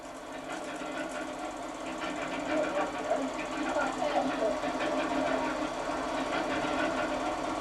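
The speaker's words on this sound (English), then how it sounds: "the royal train drew out on the journey to Knowsley Hall" Royal train drawing out of the station at Burnley in 1968, its steady mechanical rumble and rhythmic clatter of wheels sounding continuously at moderate level, with a crowd murmuring faintly around it.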